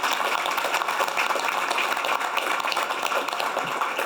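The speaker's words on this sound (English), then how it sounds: "let's give them a big round of applause" Audience applause for city budget staff at a council budget retreat, a steady, dense wash of clapping that holds at an even level throughout.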